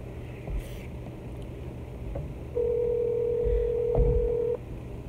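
A telephone ringback tone, one steady sustained tone lasting about two seconds and moderately loud, over a quiet room background with no talking.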